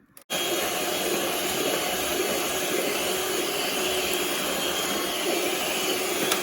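An electric mixer whipping a butter mixture for cottage cheese pastries, a loud steady whirring drone that starts abruptly after a brief moment and runs unbroken, close and alone.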